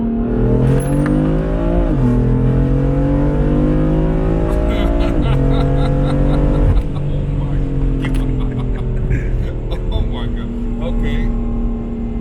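A 650 whp full-bolt-on BMW F82 M4 running E85 pulls hard from a 40 mph roll. The loud, droning engine climbs in pitch through each gear, with brief dips at the shifts, heard from inside the car over road noise.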